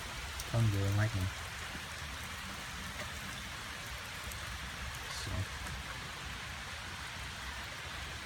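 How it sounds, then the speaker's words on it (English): Steady rain falls during a thunderstorm, a constant soft hiss of drops on surfaces, with a brief spoken word near the start. "rain and thunder and lightning."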